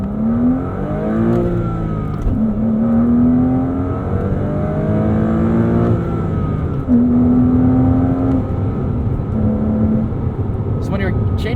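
A 2005 Porsche Boxster S with a manual gearbox pulls hard from inside the cabin, its engine note rising in pitch through several gears with brief dips at each shift, loud and close, while someone talks over it.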